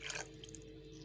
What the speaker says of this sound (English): along with these ingredients I will add in a cup of water